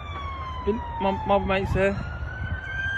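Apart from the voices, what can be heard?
emergency vehicle sirens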